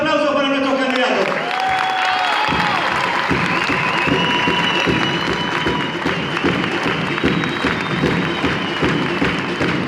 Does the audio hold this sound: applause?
yes